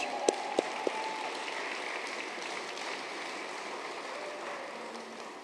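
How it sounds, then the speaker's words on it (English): Applause at an alumni gala fundraiser as an honoree comes up for a medal, a soft, distant, even patter of many hands, with a few sharp clinking taps near the start and a gradual fade toward the end. "Let's applaud you in the flesh."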